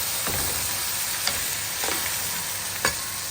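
Rice frying in a pan with garlic, a continuous loud sizzle with a few distinct scraping stir strokes spaced about a second apart, close and without any talking.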